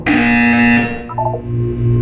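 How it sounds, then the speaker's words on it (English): An electronic buzzer from the Portal 2 video game sounds loud and steady, a harsh tonal drone that holds for about a second before breaking into a short stuttering pattern of lower electronic tones. "When you hear the buzzer, look up at the ceiling."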